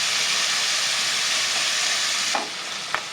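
Chopped onion hits hot oil already holding black cumin and green chilli, setting off a loud, steady sizzle that runs for a few seconds, then drops back, followed by a couple of light stirring knocks.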